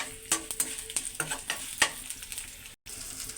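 Tempering spices for coconut chutney fry in a pan, giving a crackling sizzle punctuated by sharp pops and spatula taps, close-up and brief, with a short dropout near the end and no talking.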